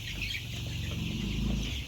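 Young chickens about twenty days old cluck and chirp together on a poultry farm in Tangail, making a dense, continuous chorus close by.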